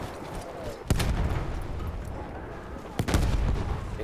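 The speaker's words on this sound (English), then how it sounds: "Ah, grenades." Grenade blasts and gunfire in the video game Battlefield 1, two sharp heavy booms about two seconds apart over a rumbling battlefield din, with faint talk underneath.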